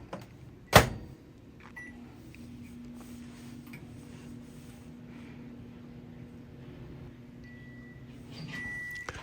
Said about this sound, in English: So here I'm putting it in a microwave.